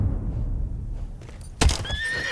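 Horses in the Battlefield 1 video game whinny in a sharp burst over a low rumble of hooves, with a clear neigh and some clip-clop heard near the end.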